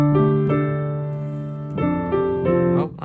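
A piano intro with a sustained low line under gently repeated inner-voice notes, soft chords re-struck every half second or so, close and clear with no talking.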